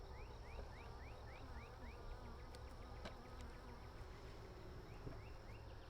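Honey bees drone in a dense, continuous buzz during an outdoor hive trap-out, steady and fairly close, while birds chirp in repeated short calls in the background.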